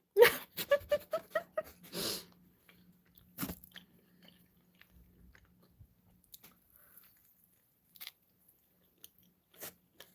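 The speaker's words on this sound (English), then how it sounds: "I wonder, can y'all hear me chewing?" A person chews food close to the microphone with wet crunching bites in a quick burst, then pauses briefly; a few fainter sporadic chewing clicks and mouth sounds follow amid near-silence.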